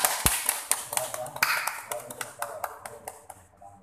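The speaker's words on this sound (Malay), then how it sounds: "tepuk tangan, tepuk tangan" Several hands clap in a loose, uneven patter of sharp slaps at an election victory thanksgiving gathering, with voices chatting underneath.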